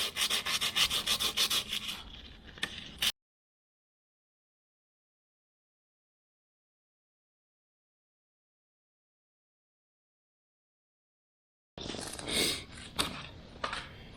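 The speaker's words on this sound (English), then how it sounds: "I'm just going to lightly sand away at the surface here to try to make sure I remove everything from the mating surface" Hand sanding of an engine cylinder head mating surface with 150 grit sandpaper on a Toro Timemaster mower, a close, steady rubbing scrape in two bursts separated by a long silent gap.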